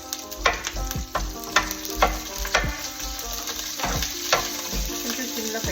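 Chopped onions and green chillies frying and being stirred on low heat, a soft sizzle under repeated sharp scraping strokes of a spoon against the pan.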